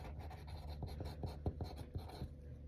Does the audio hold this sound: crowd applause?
no